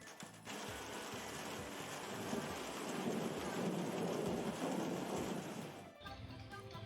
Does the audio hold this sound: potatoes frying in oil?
no